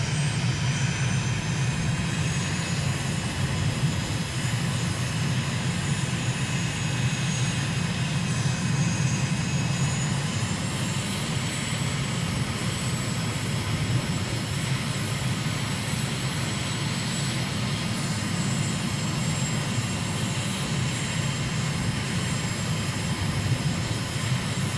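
Aircraft engine droning steadily during a landing approach at sunset, a constant loud hum with a slowly shifting tonal whine, heard from inside the cockpit without talk.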